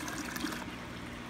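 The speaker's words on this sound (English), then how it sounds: "I'm going to take some water from my protein skimmer that I have in a jug, and I'm going to take it and dump it into this filter" Dirty water from a protein skimmer jug poured into a Rollermat aquarium filter, a brief close splashing trickle that thins out toward the end.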